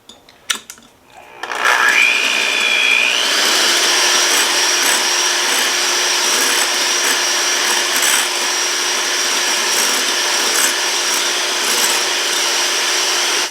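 Electric mixer beating old-fashioned 7 minute frosting with vanilla, starting after a few clicks and then whirring loud and steady close by for over ten seconds.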